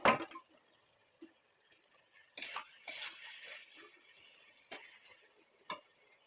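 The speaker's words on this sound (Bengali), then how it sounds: "মাছগুলো দিয়ে এইভাবে জিনিসটাকে কষানো হচ্ছে।" Small kachki fish and vegetables stirred and frying in a pan, with scattered scraping clinks of the utensil against the pan over a soft sizzle, several sharper knocks spaced through the stretch.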